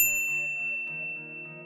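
A notification bell rings once, a clear ding that fades out as the tone decays.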